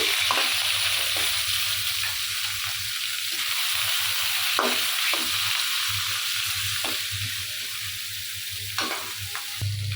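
Fish for curry fries in hot oil, giving a continuous close hiss and sizzle with occasional soft clicks and crackles from stirring, and no voices.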